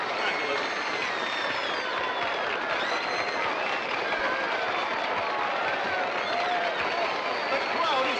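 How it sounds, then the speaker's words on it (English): A large crowd at a glamorous movie premiere roars, cheers and claps as a guest in an all-pink chinchilla coat is introduced, a thick continuous wash of noise with whistles and shouts rising through it. "The crowd is roaring so much."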